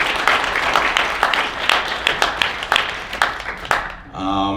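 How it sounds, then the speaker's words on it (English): Round of applause from an audience at a diversity panel discussion, dense steady clapping with sharp individual claps, fading out at the end. "So let's give him another round of applause for that."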